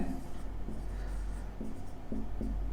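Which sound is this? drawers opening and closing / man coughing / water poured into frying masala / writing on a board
writing on a board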